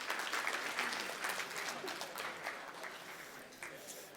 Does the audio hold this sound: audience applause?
yes